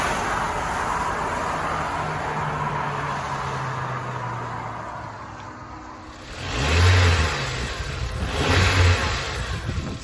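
A Honda Accord Type S (CL9) engine fitted with a Pipercross panel air filter sits at a quiet steady idle, then gives two short revs near the end, close by.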